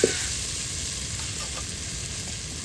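Onions frying in a pan, a constant close hiss and sizzle with a small knock at the start and nobody speaking.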